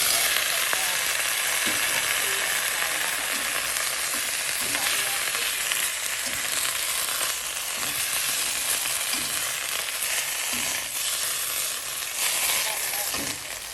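Steady, dense sizzling of chili and garlic frying in a hot wok, a continuous crackling hiss with occasional clinks and stirring scrapes.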